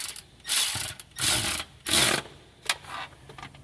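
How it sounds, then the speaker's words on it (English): Hand ratchet snugging the transmission pan bolts on a Ford Super Duty 5R110W transmission, three distinct bursts of rapid pawl clicking with short pauses between, close and clear, followed by a few fainter clicks. "Now that we've got them all started by hand, we'll go ahead and snug them up."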